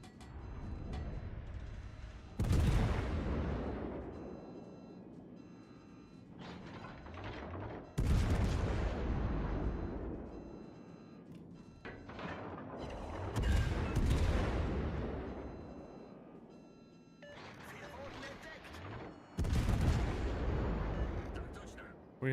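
Battleship guns fire on the Alabama in a naval video game, heavy booming salvos at spaced intervals, each rolling out into a long rumble, with voices talking between the blasts.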